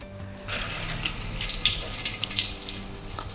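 A coconut washed under a running kitchen tap, water splashing and spattering steadily after a short quiet start, close and moderately loud.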